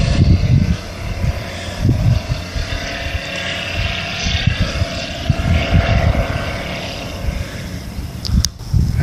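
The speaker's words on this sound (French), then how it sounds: "Petit avion ULM" A small ultralight aircraft (ULM) over Réunion island near the Cambaie forest road gives a continuous propeller-engine drone, with gusty low rumble from wind and movement close to the recorder.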